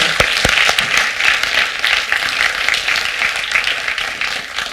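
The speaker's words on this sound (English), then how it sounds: "I would like us all to applaud all the people that made those spaces happen" A university audience at SOAS breaks into sustained applause, dense clapping from many hands at steady strength throughout, close and filling the room.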